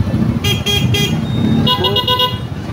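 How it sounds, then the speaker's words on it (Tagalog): Car horns honk near a Catholic cemetery in Lopez, Quezon: a loud burst of three quick toots, then a second run of rapid short beeps, over a constant rumble of nearby idling vehicles and crowd noise. "Bubusin na yung mga sasakyan."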